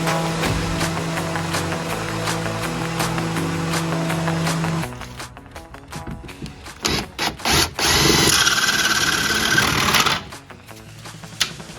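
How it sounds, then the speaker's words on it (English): An electric planer whines steadily, then cuts in and out in uneven bursts as it works across wooden fence pickets, with a few sharp clacks near the end. "I think it's easier to just use a planer first"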